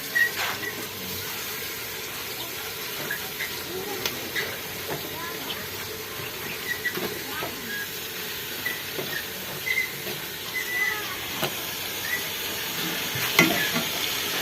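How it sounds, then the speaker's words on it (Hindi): Spinach goes into a pot of half-cooked potatoes in a Pakistani village kitchen, with soft sizzling, steam and stirring scrapes throughout and faint talk in the background. "तो अब मैं पालक इसमें ऐड करती हूँ।"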